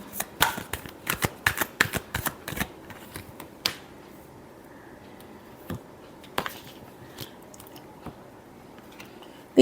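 Tarot cards are shuffled up close and quietly, with a quick burst of crisp riffling snaps at first, then a few sparse, separate flicks and taps.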